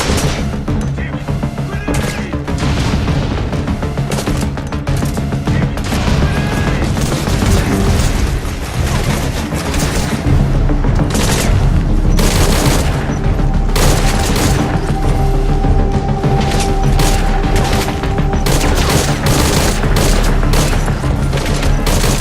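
Dense, continuous gunfire and booming explosions from combat in the stealth action video game Metal Gear Solid 5 Ground Zeroes on PS4, loud and unbroken with overlapping shots throughout.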